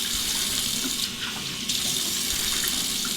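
Bathroom sink faucet runs hard and close, a steady rushing splash of hot tap water used to warm the face before a shave, with a brief dip as hands move under the stream.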